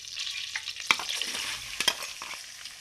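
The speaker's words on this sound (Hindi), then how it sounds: "प्याज को हम अच्छी तरह फ्राई करेंगे" Onions frying in half a cup of oil in a kadai, a close, steady hissing sizzle with a few scraping stirs of a spoon through the pan.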